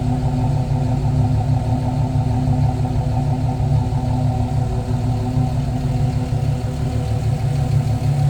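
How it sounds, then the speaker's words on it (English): Exhaust of a 1999 Jeep Cherokee SE idling at the rear of the vehicle, a steady low rumble holding even and loud without breaks, with no talking over it. "A healthy exhaust note."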